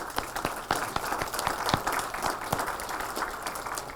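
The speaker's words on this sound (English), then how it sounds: "Can we get a round of applause," An elementary school audience of parents, family members and students claps for about four seconds at the opening of an awards ceremony, a dense, steady roomful of crisp hand claps with a few sharper individual claps standing out.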